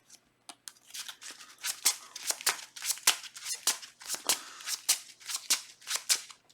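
Playing cards being shuffled back into a deck for a Justice Wasp card game, a run of crisp, close riffling snaps and flicks in an uneven rhythm, heard alone without talk.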